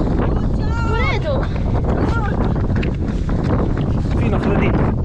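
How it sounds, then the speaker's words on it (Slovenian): Wind roaring steadily across the microphone while running into a headwind outdoors, loud broadband buffeting throughout, with people talking over it. "tečem proti vetru"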